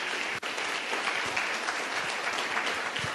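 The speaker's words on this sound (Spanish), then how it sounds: "me gustaría que le diéramos palmas al Señor" Congregation clapping in a church during an anniversary service, a dense, steady round of applause from many hands that holds at an even level throughout.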